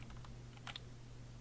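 Soft, quick keystrokes on a computer keyboard, a handful of faint clicks in an irregular cluster over a quiet steady hum, with no talking.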